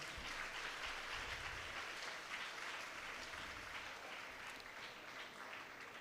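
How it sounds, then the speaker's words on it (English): An audience applauds teachers and students after a school fashion tableau at a Teachers Day event, a steady roar of clapping that holds evenly for several seconds and fades only slightly, with no voices over it. "Let's give them a round of applause."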